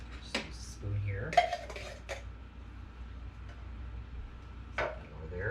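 A spoon scrapes and clinks against a baking pan while spreading a pineapple juice and cherry crisp mixture, with scattered close metallic taps and soft scraping, then quiet gaps.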